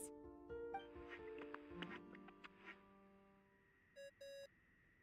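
Short electronic beeps from a device ringing tone in the video game Genshin Impact sound faintly among soft chiming tones, ending with two clear, brighter beeps near the end.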